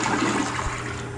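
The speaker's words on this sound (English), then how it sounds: "I'll flush it." Gerber toilet flushing in a hotel bathroom, a loud, close rushing swirl of water that stays strong throughout the short burst, with no talking over it.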